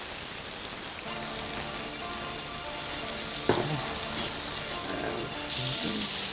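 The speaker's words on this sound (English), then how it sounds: "I like to toast it a little first, just with the olive oil by itself." Arborio rice toasts in olive oil in a pan with a steady, even sizzle throughout, a brief scrape of stirring breaking in partway, and low kitchen hum behind it.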